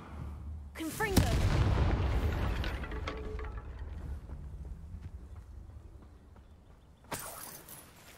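A Confringo fire spell explodes in Hogwarts Legacy with a loud booming blast that rumbles and fades over several seconds. A voice speaks just before it, and a second sharp burst comes near the end.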